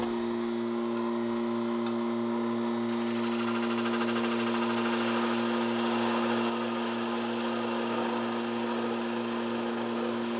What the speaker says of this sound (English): now I'm going to go across this with a small spindle gouge, give me a little bit cleaner cut